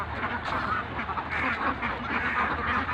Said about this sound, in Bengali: এটা এই যে পানির ভিতরে হাঁস অনেক